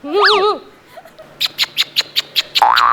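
An electronic doorbell gives a bird-like chirp in a Marathi comedy sketch: a quick warbling chirp is followed by a string of about eight evenly spaced sharp ticks, loud and close, ending in a steadier tone.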